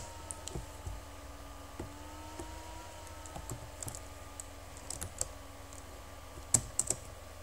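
Fingers type on a computer keyboard, a quiet, irregular patter of soft key clicks close by over a low steady hum, with a few sharper taps near the end.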